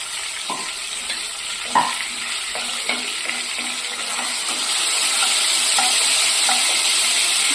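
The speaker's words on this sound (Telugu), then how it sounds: "ఆయిల్ వేడైపోయింది కదండి. ఇప్పుడు జీలకర్ర ఆవాలు వేసుకున్నాము." Cumin and mustard seeds sizzle steadily in hot oil for tempering, with a few sharp pops and stirring clinks near the start, the frying hiss swelling louder and denser toward the end, no voices.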